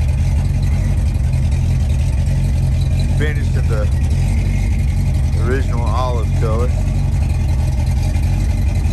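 A restored 1971 Chevrolet C10 pickup idles nearby with a steady, low, even rumble that carries on throughout, while someone talks over it.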